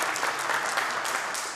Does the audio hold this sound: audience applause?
yes